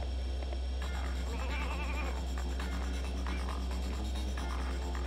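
Sheep in a video game bleat repeatedly over a steady low hum, faint against the constant droning background.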